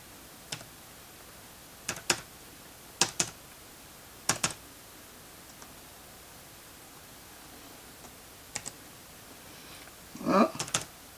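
A password is typed on a computer keyboard during an Ubuntu 22.04 LTS update, in short clusters of soft, close key clicks separated by pauses, ending with a faster burst of keystrokes in a quiet room.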